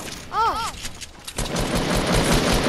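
Gunfire from a double barrel shotgun in the Fortnite video game, heard as a dense burst of sharp shots in the latter half, after a brief whistling game sound early on.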